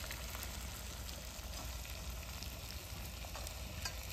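Meat sizzles and fries steadily in a pan, with a dense crackling hiss and occasional stirring scrapes, close and even, with no talk.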